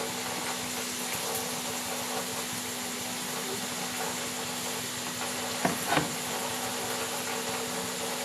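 Chopped onions and tomatoes fry in a pan as chicken kosha is cooked. A steady, moderate sizzle and hiss carries under a faint hum, with a brief clatter of stirring just before the sixth second.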